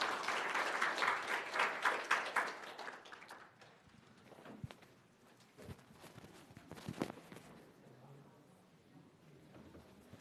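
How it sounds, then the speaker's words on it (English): An audience at an academic talk claps for the speaker. The applause is moderately loud and dense at first, then thins to scattered claps and faint room noise. "let's give the speaker another round of applause"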